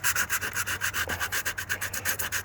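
Hand sanding of damaged gelcoat on a 24 ft Parker Sea Breeze boat with sandpaper, a steady rhythmic back-and-forth scratching of about two strokes per second, close and alone.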